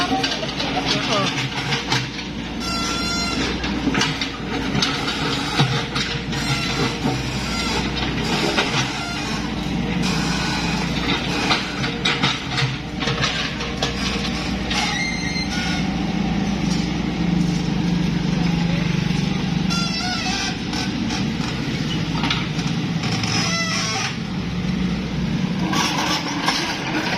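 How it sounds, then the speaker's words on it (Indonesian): A tractor engine runs continuously at a house renovation site in Ambulu, Jember, giving a steady low mechanical drone with rattling clatter. People talk over it throughout. "Ada traktor."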